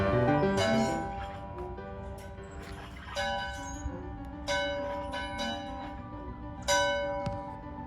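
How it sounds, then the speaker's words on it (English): Church bells at Red Level Baptist Church ring out in a series of resonant strikes, each decaying slowly, with a rich tolling tone at moderate distance. "I'm sure Miss Kitty will be ringing those church bells real soon."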